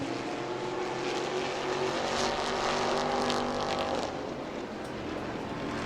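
E-Mod race cars roar past on a short oval track, a loud, sustained engine rush that swells and fades slightly as the pack goes by, with no voices.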